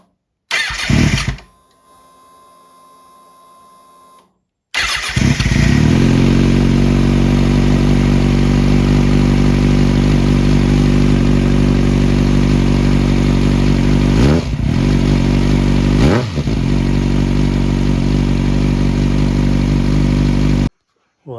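A Kawasaki ZX6R motorcycle engine, after a cam tension adjustment, cranks briefly and then catches, running loud and close at a steady idle, with two short blips of revving partway through.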